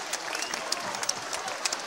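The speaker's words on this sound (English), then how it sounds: "And the crowd will cheer for this one, as they should." An arena crowd claps and cheers during the final seconds of an MMA bout between Bao Quach and Mark Oshiro, a dense, steady roar of applause with sharp individual claps.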